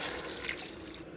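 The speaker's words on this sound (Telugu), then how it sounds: "వాటర్ పోసేసుకోవాలి." Water from a glass is poured into a pot of fried rice for kichidi, making a soft, steady splashing and trickling for about a second. It is faint, with no talking.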